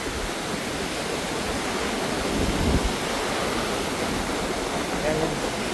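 Strong ocean waves break on Boracay beach, a steady, loud roaring wash of surf that swells briefly midway and never lets up, with no clear talk over it.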